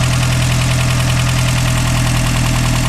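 A warm Toyota 22RE/3VZ engine idles steadily, its valves out of adjustment and the top end spitting oil. The running is close and loud, with a constant low rumble and a fast, even ticking pulse.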